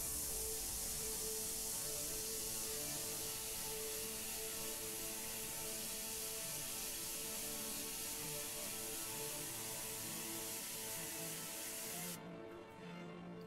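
An airbrush misting paint over an alien figure in a steady, continuous hiss that holds close and even for about twelve seconds before cutting off abruptly near the end.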